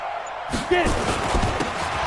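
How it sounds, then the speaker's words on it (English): Crowd noise swells in an American football video game on PS4 as a big third down approaches, a broad roar rising suddenly after a quiet start and holding steady, with a brief whistle-like tone mixed in. "the crowd getting into it as we come up on a big third down"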